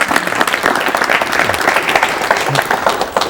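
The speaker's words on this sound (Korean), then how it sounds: "박수로 맞이해 주십시오." A 1985 Korean television studio audience gives loud, continuous applause to welcome guest Dr. Hwang Kyu-bin. Dense clapping fills the hall from start to finish.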